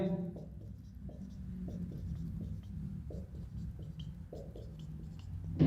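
Pen writing on paper during a study lesson, soft scratchy strokes in short bursts under a low steady background and faint voice.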